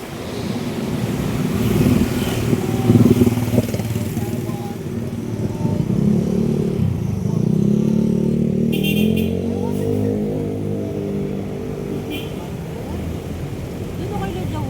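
A motorcycle engine revs up, its pitch climbing and falling, with wind buffeting the microphone and voices faintly in the background.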